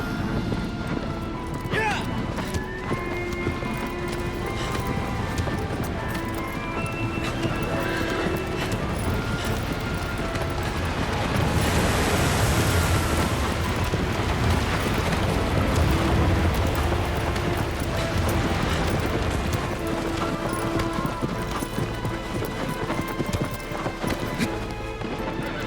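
Steady clip-clopping horse hooves with an occasional whinny in the video game Shadow of the Colossus Remastered, layered over continuous background music and rumble, loud and unbroken throughout.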